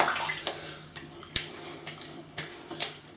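A safety razor is rinsed under a running tap at a bathroom sink between shaving passes: a steady close wash of water broken by a few sharp knocks and splashes as the head is shaken and tapped.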